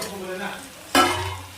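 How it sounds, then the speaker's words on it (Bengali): Potato pieces frying in a pan, quiet sizzling followed by a sudden loud stir and scrape midway, then the sizzle continuing. "এবার আলুগুলোকে ফ্রাই করে নেবো লাল লাল করে।"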